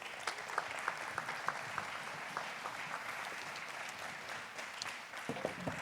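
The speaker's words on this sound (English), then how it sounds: "Got to keep clapping till he's here." An audience claps steadily to welcome a guest onto a stage, with sharp individual claps standing out from the wash of applause; moderately distant and sustained throughout.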